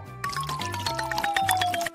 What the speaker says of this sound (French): Alors, je vais ajouter de l'eau.